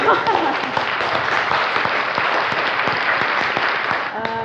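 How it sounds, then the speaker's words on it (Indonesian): Large crowd of spectators at a podcast recording for an Indonesian regional education office in Madiun applauding on cue; loud, continuous clapping throughout, with a voice beginning to speak at the end. "tepuk tangannya monggo"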